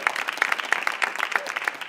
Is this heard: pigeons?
no